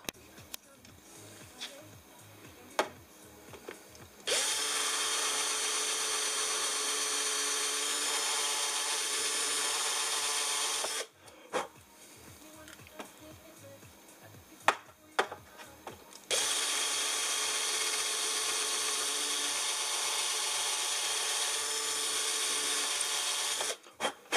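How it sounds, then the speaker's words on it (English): Two long stretches of steady, loud power-drill whine as holes are drilled out slightly bigger, separated by short gaps filled with faint clicks and handling noises. "Now let's drill them out just a little bit bigger"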